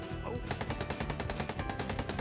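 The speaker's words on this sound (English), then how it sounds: "Gunfire erupts from behind" Rapid automatic gunfire in an SCP video game fires in a fast, evenly spaced burst of loud shots that continues through the whole stretch.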